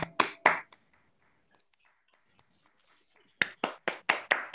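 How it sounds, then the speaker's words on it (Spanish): A few hands clap at the close of a human rights tribute event, sharp close claps in two short bursts, three at first, then about six after a quiet pause with faint murmuring. "Nos despedimos con un aplauso."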